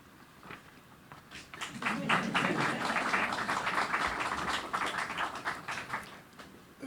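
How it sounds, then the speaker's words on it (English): Applause from festival attendees at the St. Lucia Jazz and Arts Festival, a broad crowd of many hands clapping that swells after a second and holds steady, dense and fairly distant, with no talk over it. "You deserve a round of applause."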